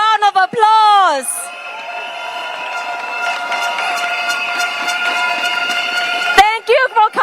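A crowd at an outdoor campaign rally in Nee Soon breaks into loud, sustained cheering and whooping that runs for several seconds between bursts of amplified speech.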